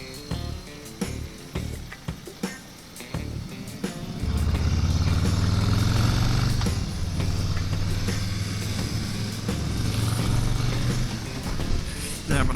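A 2021 Harley-Davidson Low Rider S on the highway starts with clicks and handling noise, then a deep, loud engine drone rises and holds under wind rush, steady through the ride.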